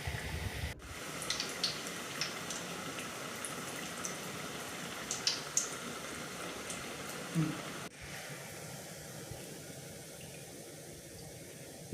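Bread bajji frying in hot oil in a pan gives a steady, fairly faint crackling bubble throughout, with a few brief louder pops and a small break near the start and again toward the end.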